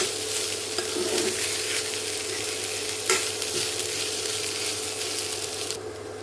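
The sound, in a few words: sautéing a healthy snack mixture in a pan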